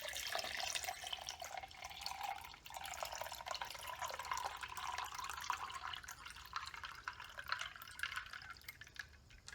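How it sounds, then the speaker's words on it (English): Coffee poured into a 16-ounce tumbler already holding ice, a steady, fairly quiet liquid trickle and splash that runs the whole time with no voices. "pour the coffee in here."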